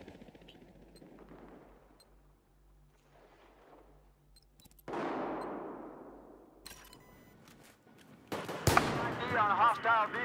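Battlefield 4 gunfire: after quiet stretches with faint distant noise, a sharp shot bursts in and decays, followed by a louder, close crackling volley near the end.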